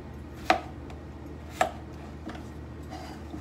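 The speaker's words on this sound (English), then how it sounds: "So more slices on bigger potatoes, lesser slices on little potatoes." A kitchen knife cutting through raw potatoes on a cutting board for mashed potatoes, with two sharp chops followed by a fainter third, alone against quiet room tone.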